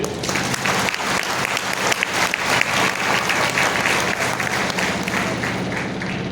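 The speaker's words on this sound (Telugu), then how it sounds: "ఒకసారి క్లాప్స్ ఇచ్చేయండి." A seated audience claps steadily and densely from start to finish, a continuous close wash of many hands with no pauses.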